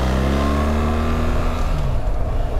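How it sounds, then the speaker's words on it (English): A BMW R1300GS motorcycle engine pulls steadily while riding through traffic, a loud continuous drone with rising harmonic tones and a faint wheezing note layered over the engine roar. "Can you hear that sort of wheeze that kicks in?"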